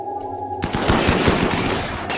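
Rapid bursts of gunfire in the RimWorld video game, during a fight in arid shrubland against mechanoids, erupt suddenly after a quiet stretch and continue densely and loudly as overlapping volleys.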